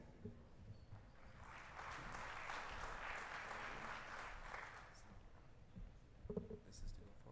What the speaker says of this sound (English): let's hear a round of applause to the founder and CEO of F Subsea Norway, Alexander Fuglsang.